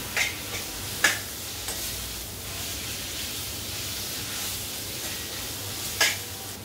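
Ginger-garlic paste sautés in a pan for paneer biryani, a steady low sizzle with occasional sharp taps of a spoon against the pan, close and soft, no speech.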